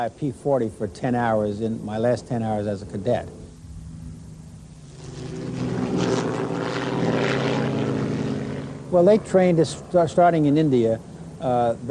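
A Curtiss P-40 Warhawk propeller fighter plane's engine drones steadily for several seconds, a loud rumbling roar that swells and fades between stretches of someone talking.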